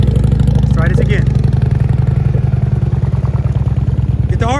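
A Harley-Davidson CVO motorcycle engine pulses steadily and close during slow-speed riding practice, its low throttled revving running throughout while someone talks over it.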